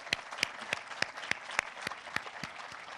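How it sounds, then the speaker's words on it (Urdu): An audience claps at a school laptop award ceremony for students and their parents, making evenly spaced, rhythmic claps that ring out in unison about three times a second over a soft crowd murmur. "ان عظیم بچوں اور بچیوں کے لیے اور ان کے والدین کے لیے بھرپور تالیاں لگائیں"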